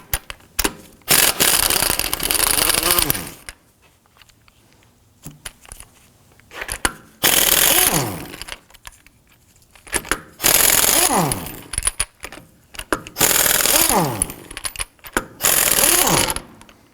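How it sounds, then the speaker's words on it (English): An impact gun with a 19mm thin wall socket spins off the lug nuts on a 2005-2009 Subaru Legacy front wheel in five loud, rattling bursts of several seconds each, separated by quiet pauses. "Using a 19mm thin wall socket, I'm going to go ahead, loosen and remove our lug nuts and our locking key."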